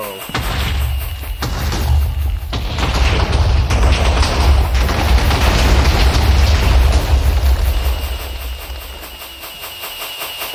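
Minecraft fireworks go off in a run of booming blasts, heavy low thumps and bursts layered close together and loud, fading toward the end.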